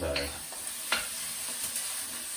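Egg stir-fried in a wok for Singapore noodles gives a continuous bright sizzle broken by a couple of sharp scraping spatula strokes, heard up close with no talking.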